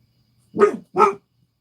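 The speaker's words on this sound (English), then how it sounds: "Sorry, that's my dog." A dog gives two quick, close barks in an otherwise quiet indoor room, with no talking.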